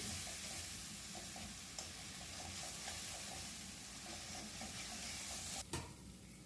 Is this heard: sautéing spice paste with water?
yes